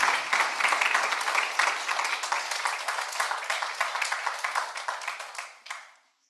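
An audience at a high-level climate action panel applauds the distinguished panelists, steady dense clapping that thins and fades out near the end.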